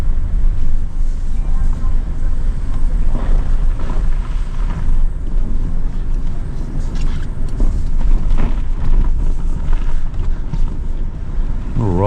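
An old truck rolls through ice on a snowy road in Mingo County, West Virginia, giving a steady low engine rumble mixed with crunching and creaking from the ice. It runs continuously and close, with voices talking over it.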